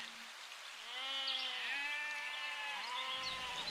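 A goat bleats in a long wavering call, clear and fairly close against a faint background patter, then gives a shorter second bleat near the end.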